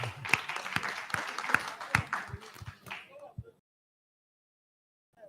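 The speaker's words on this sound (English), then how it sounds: "We can clap for him." Audience at an annual general meeting claps for a nominee: a few seconds of scattered, moderately close handclaps from a modest crowd, stopping abruptly into near silence.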